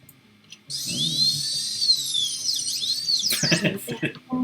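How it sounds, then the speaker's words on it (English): A whining dentist drill sound effect plays in a Jackbox Party Pack game, a loud sustained high-pitched whir with warbling pitch sweeps, ending in a clattering burst as people talk over it. "You're playing the dentist drill again."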